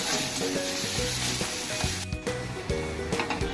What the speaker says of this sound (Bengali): গ্রেট করা আদা রসুনটা দিয়ে দেবো। দিয়ে একটু ভালো করে ভেজে নিতে হবে